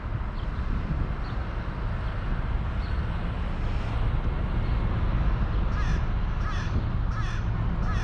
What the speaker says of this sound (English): I guess he doesn't like the sound of the seagulls.